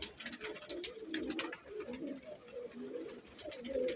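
Sialkoti pigeons coo softly and repeatedly nearby, with low, rolling calls that overlap one another against a quiet background.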